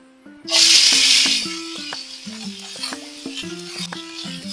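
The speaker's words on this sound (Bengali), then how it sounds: "শুটকি কিন্তু এরকম করে বাজছে মশমশা করে" Shredded dried loitta fish (shutki) hits hot oil in a pan with a sudden loud hiss that eases into steady crisp sizzling, while a voice hums or sings over it.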